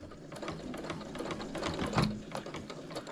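A sewing machine runs in quick stitching bursts as fabric with thick interfacing is fed under it for a quarter-inch seam while attaching a zipper, a close, rhythmic mechanical chatter with no talking.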